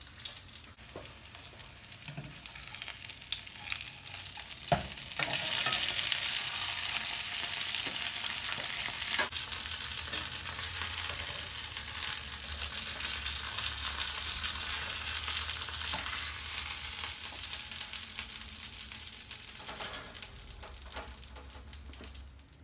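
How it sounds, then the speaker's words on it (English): Chicken cutlets coated in party mix fry in a pan with a steady, close hissing sizzle that swells after a few seconds and then holds, with a few clicks and bumps of handling and no talking. "I'll finish frying the rest and I'll be right back."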